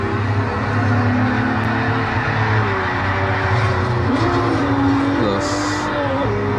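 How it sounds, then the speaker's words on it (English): A V8 engine in a Maserati-type race car on the Nürburgring, droning loudly and steadily from inside the car with shifting pitch as it revs, with a brief high squeal near the end. "That thing sounds beautiful. That is one beautiful V8 engine."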